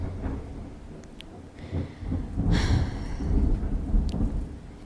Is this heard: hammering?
no